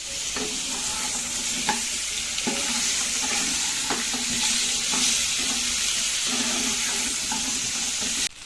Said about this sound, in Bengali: এবার এই আলু আর মূলোটা ওই তেলের মধ্যে ভেজে নিচ্ছি।